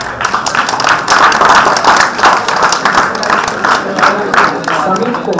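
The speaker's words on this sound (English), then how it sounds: "Give a big round of applause," Steady applause from an audience at a university degree distribution ceremony, sustained clapping for a graduate throughout, with some voices under it.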